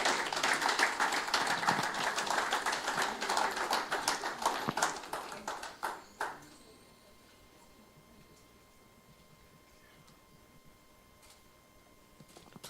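Applause from a conference audience at a London Africa summit, a dense sustained wash of many hands clapping for a central bank governor that holds for about six seconds and then cuts off to near silence.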